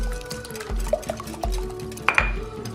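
A whisk stirring a bread pudding mixture with peaches in a bowl, rhythmic scraping strokes with light clinks against the bowl, close and moderately quiet.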